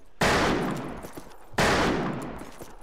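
Two loud, close gunshot bursts in a first-person shooter video game, each a sharp crack with a decaying rumble, spaced about a second and a half apart.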